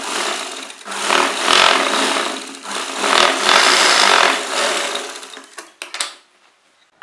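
Sewing machine stitching a neck pattern on fabric, several runs of rapid mechanical chattering stitching separated by brief pauses, ending in a few clicks and quiet.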